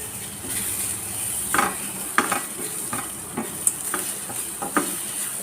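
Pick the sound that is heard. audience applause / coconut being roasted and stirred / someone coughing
coconut being roasted and stirred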